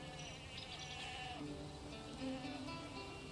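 Goats bleat in the video game Where Winds Meet, with several wavering calls rising over a busy, steady game soundscape of music and ambience.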